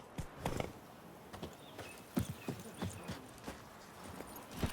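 Horse hooves clip-clopping in the video game The Witcher, a steady walking rhythm of sharp, distinct hoof strikes, close and moderately loud, with a brief whinny-like sound and no talk.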